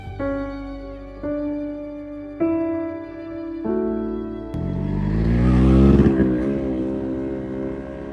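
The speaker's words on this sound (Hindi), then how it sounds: "अब हमारी बाइक बढ़ चली है समथार की ओर" A motorbike climbs a foggy mountain road in the West Bengal hills, its engine note rising in steps through several gear shifts before swelling into a loud, close, sustained rev.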